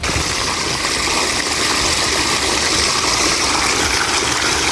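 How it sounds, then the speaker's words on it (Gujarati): Irrigation water pours steadily into a millet field, a constant broadband rushing gush with a faint pump-like hum beneath, close and unbroken with no voices. "તો બાજરીમાં પાણી વાળવાનું ચાલુ છે."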